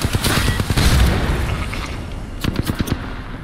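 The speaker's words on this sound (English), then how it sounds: "Oh shit, grenade" A grenade explodes in a PC shooter game, a loud booming burst followed by rumbling debris, then a short rapid string of sharp gunshot-like cracks, with no talking.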